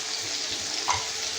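A cooked-down tomato mixture with chilli powder fries for a Bengali-style khichuri, making a brief, even sizzling hiss close by, with a faint stir near the end.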